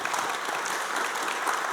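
Conference audience applauding a speaker being introduced, a steady dense wash of clapping from a sizeable crowd filling the whole moment without pause.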